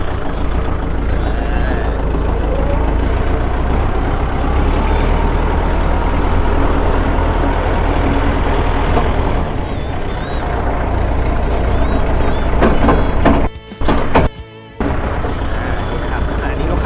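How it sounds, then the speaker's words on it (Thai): A used Kubota L5018 tractor engine runs steadily up close, a loud, dense low rumble that holds throughout, with brief dropouts near the end. "อ่าเดี๋ยวเราลองฟังเสียงกันครับ โอ้โหเครื่องแน่นครับคันนี้ ฟังเสียงก็รู้เลยนะครับกำลังแน่นมากนะครับ"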